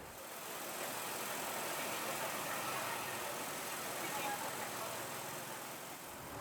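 A BMTA city bus on Bangkok's route 8 drives through the Lat Phrao intersection, its engine a low, steady, fairly faint rumble that rises gently and then eases under a hiss of traffic.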